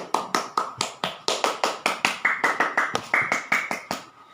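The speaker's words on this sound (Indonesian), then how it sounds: "Tepuk tangan untuk kita semua" A classroom claps for itself after student presentations in a high school biology lesson, heard as a steady series of about twenty sharp, evenly spaced claps or taps with a faint sustained tone running beneath.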